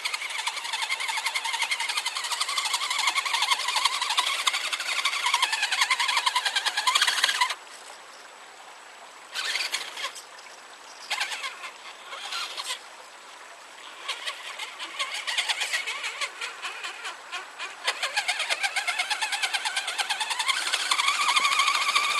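A vehicle engine cranks, catches and keeps running in cold winter conditions, a loud, steady close-up roar that dips quieter for a few seconds midway before returning at full strength, with no talk.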